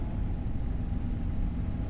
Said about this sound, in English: I can hear the gears grinding